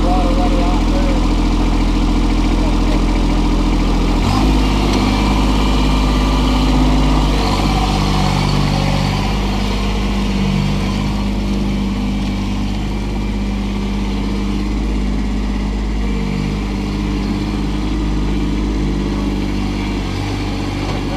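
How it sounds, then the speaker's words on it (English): Tractor fitted with turf tires running through mud, its engine droning loud and steady at close range for the whole stretch, with excited voices talking and shouting over it. "Who gets a tractor with turf tires on it?"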